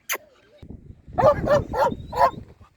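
A Ukrainian Laika hunting dog named Pulya gives a thin whine followed by four short, close barks in a quick run, with faint rustling and low background noise between them.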